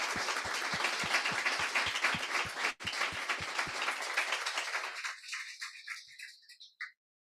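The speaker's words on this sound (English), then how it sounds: "please everyone join me in a round of applause to thank Ilkka Sami." Applause at an annual counter-terrorism conference, where regular rhythmic clapping gradually thins out and then stops, leaving a few scattered claps and then silence.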